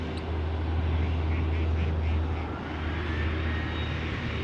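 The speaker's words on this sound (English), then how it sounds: "these are all coots" Coots near Amsterdam Schiphol Airport give a few short, faint calls, partly masked by a loud, steady roar of aircraft engines.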